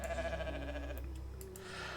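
A goat bleats in the farming video game The Stillness of the Wind, one short wavering call over a steady musical background.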